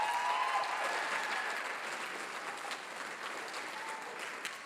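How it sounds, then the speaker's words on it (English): At a battle of the bands event, an audience applauds a middle school music teacher from Lakeland Middle School in Rathdrum, with steady, moderately distant clapping from many hands that tapers slightly, with no talking over it. "Give Dion Goodwin from Lakeland Middle School in Rathdrum a round of applause."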